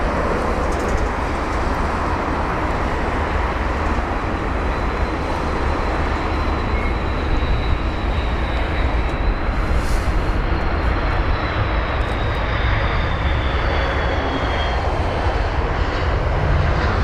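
Airliner arriving at London Heathrow, a loud, continuous roar of jet engines with a high whine that rises and then falls as the aircraft passes close by.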